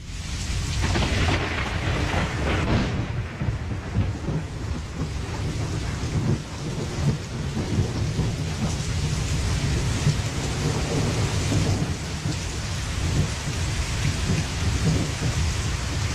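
Heavy rain falls hard and continuously while deep thunder rumbles and rolls underneath, loud and sustained with no voices.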